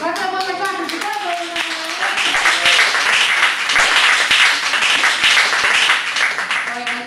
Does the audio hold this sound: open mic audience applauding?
yes